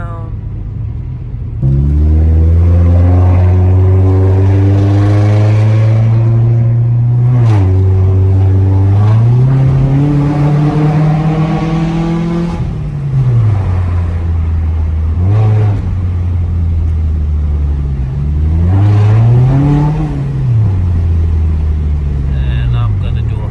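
A 2002 Honda Accord with its resonator deleted revs repeatedly, the loud close exhaust drone climbing and falling in several smooth pulls between idle stretches.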